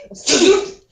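A single abrupt sneeze, loud and close, bursting out after a short breath and trailing off, with no talking.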